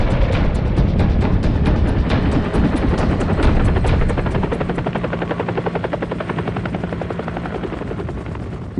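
American military helicopters take off in Vietnam around 1971, their rotors thumping loud and close in a dense, continuous roar that thins slightly into a rhythmic chop as they lift away.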